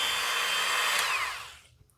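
A Dremel rotary tool drilling holes in a plastic scale starship model, a high whirring whine that holds steady, then spins down and fades to quiet near the end.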